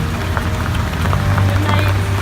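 Steady rain falls on a sailboat the day before launch, a dense, continuous patter of drops striking the deck and hull close by, with no talk over it.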